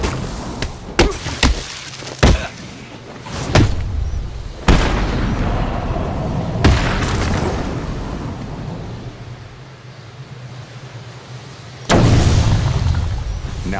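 Explosions of Titan containers in the video game Batman Arkham City: several loud booming blasts with rumbling decay, one heavy burst near the start, more at intervals, and a final strong boom, under a low game ambience.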